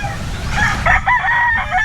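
A rooster on a chicken breeding farm crows once, loud and close, with faint clucking and other fowl around it.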